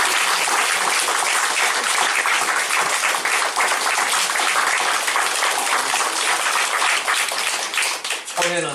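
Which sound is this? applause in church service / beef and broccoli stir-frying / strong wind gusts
applause in church service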